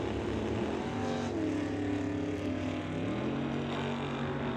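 Drag race cars at an NHRA Summit ET bracket event roar down the quarter mile, a loud, sustained engine drone with shifting pitch that holds steady across the whole stretch, without talk.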